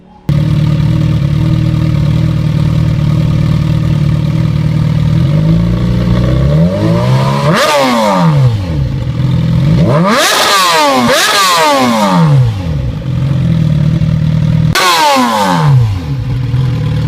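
A Suzuki GSX-R1000 superbike fitted with a Jardine GP1 exhaust idles with a loud, steady rumble, then is revved hard in several sharp rising and falling bursts, close and alone.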